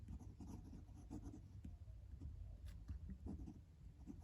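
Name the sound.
Pilot Custom 845 Urushi fountain pen writing on paper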